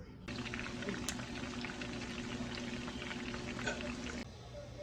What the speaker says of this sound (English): I'm gonna deep fry it and see what it's all about.